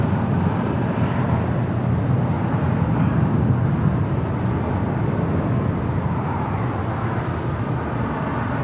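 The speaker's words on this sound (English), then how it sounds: "Yet another departure to JFK. JetBlue 1124 on an A321." JetBlue Airbus A321 departing LAX for JFK, a loud continuous broadband jet roar with rumbling low end, steady and unbroken from start to finish with no talk.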